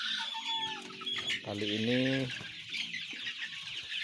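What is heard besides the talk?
Arab chickens clucking in front of coop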